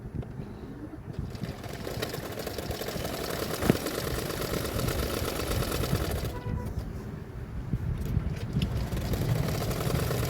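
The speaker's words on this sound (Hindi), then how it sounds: "अभी मैं एक एक पार्ट को सिलाई कर लूँगी" A sewing machine stitches the back pieces of a blouse in a steady, fast mechanical whir, pausing briefly midway before resuming, close and moderately quiet.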